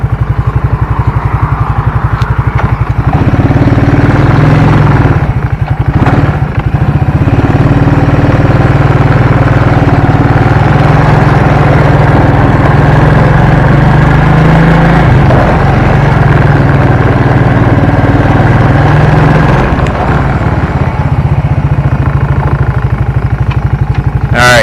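1992 Suzuki Quadrunner 300 4WD ATV engine running steadily, close and loud, with its tone shifting as gears change and brief dips in the drone.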